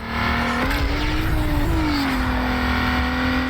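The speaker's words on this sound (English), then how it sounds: "Using nitros makes your car sound like a rocket ship taking off." A car engine in Need for Speed Underground roars at high revs under nitrous boost with a sustained rocket-like rushing whoosh, pitch climbing steadily as the vehicle surges forward.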